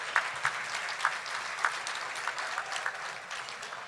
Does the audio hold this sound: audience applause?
yes